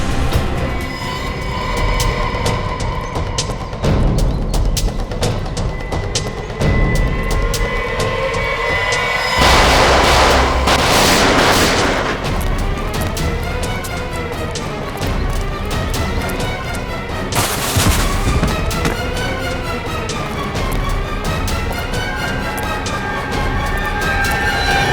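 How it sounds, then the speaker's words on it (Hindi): Gunfire and heavy booms from a shootout in a CID crime drama, loud and continuous, with cracking shots and rumbling blasts layered over a dense, sustained musical score. "हम पे गोलियां चला रहे हैं।"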